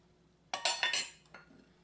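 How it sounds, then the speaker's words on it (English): A spoon clinks and scrapes against a bowl while soaked currants and prunes are mixed with creme de cassis, giving a short burst of clinking and stirring lasting about a second, close and fairly quiet. "You mix this"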